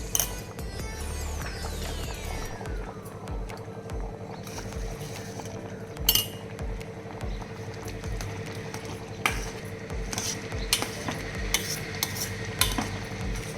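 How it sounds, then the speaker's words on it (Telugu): Coarse sesame powder being stirred into cooked rice with a spoon in a pot, steady scraping and soft clinks with occasional sharper knocks against the vessel, close and moderately quiet. "నేను ఇప్పుడు నువ్వుల పౌడర్ యాడ్ చేస్తాను."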